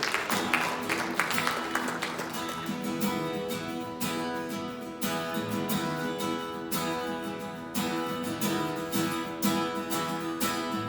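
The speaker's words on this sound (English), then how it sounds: "Let's give the Lord a hand clap of praise this morning" A church congregation claps hands in praise during a morning worship song, a continuous patter of clapping over sustained music, loud and steady throughout.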